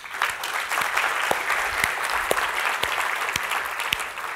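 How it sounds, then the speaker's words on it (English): Steady audience applause at an entrepreneurship lecture, a dense sustained clatter of many hands with occasional louder individual claps popping out, continuous from start to finish. "Let's give them a big round of applause."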